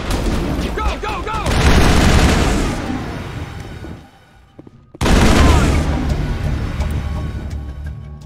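Heavy gunfire in a Mass Effect firefight at an Exogeni facility, dense bursts of shots and booms that cut out for about a second, then resume just as loud.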